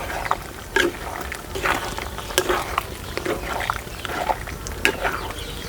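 Raw prawns with mango pieces and chili powder stirred in a pan, irregular spoon scrapes and clatters over a soft simmer, close and moderately loud.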